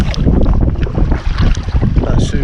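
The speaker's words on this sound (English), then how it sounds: "there's only sort of a 10 mile an hour wind or so today" Steady wind of about ten miles an hour rushes over open water near a small boat, a continuous loud buffeting roar with low rumble across the microphone throughout.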